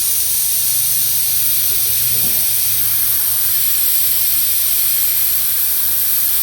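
An airbrush sprays paint onto a motorcycle side cover for a smoke skull design, a constant loud close hiss that stays steady throughout with no talking.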